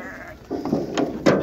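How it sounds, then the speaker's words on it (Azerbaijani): Pregnant sheep and lambs on a livestock sale farm bleat in a few short calls, the loudest near the end, against a faint background hum. "Bu qoyunlarımız da körpəlidir"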